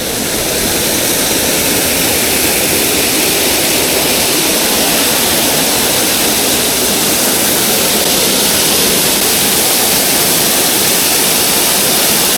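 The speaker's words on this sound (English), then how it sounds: "they've actually got the fountain going, or the waterfall fountain" A waterfall fountain in Adelaide runs as a loud, unbroken rush of falling water, a dense steady roar that fills the scene with no voices.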